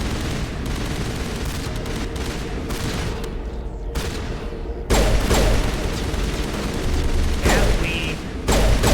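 Turret gunfire in the video game Mass Effect, dense rapid bursts of shots and booms, loud and continuous, swelling to a heavier barrage midway.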